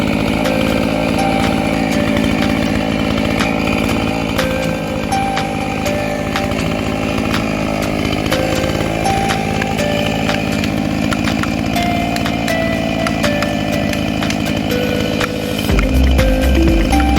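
A chainsaw cuts steadily through the trunk of a walnut tree being felled onto a street, its engine roaring loud and close without pause for most of the stretch before the note changes near the end.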